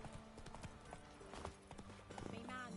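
Hooves of Roach, the horse in The Witcher 3, clip-clopping in a steady trotting rhythm, crisp and close, with game voices speaking over it.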